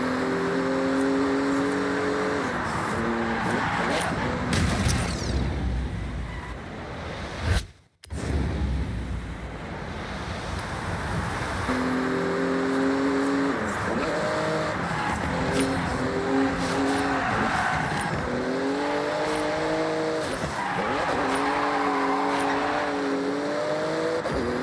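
A Porsche's engine in the Forza Horizon 6 racing game revs hard through repeated rising gear pulls, cut by a brief drop near the middle, then climbing again loud and close with no talking.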